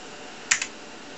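Keys being pressed on a TRS-80 4P computer keyboard to enter the date, two quick close clicks standing out over a steady background hum, with no talking.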